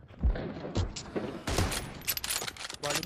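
An M24 sniper rifle fires in a team deathmatch video game. Several sharp, booming reports come in a loose sequence, with crackling gunfire and game effects around them.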